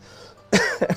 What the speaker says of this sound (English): he dies of a coughing fit on the spot